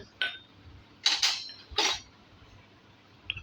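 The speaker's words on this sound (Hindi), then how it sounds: "हम बर्तनों को पोंछ रहे हैं और उसके बाद आपको दिखा भी रहे हैं" Brass puja utensils and lamps clink and clatter as they are wiped and set down: three or four bright metallic knocks with a faint rubbing hiss between them, close by.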